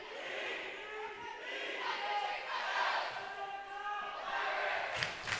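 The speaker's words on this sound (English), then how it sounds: "Good to see the boys up and cheering." Fans cheering at a high school volleyball match between the Hankinson Pirates and Lisbon Broncos, a loud crowd roar rising and falling in a gym with faint shouts and a sharp thump near the end.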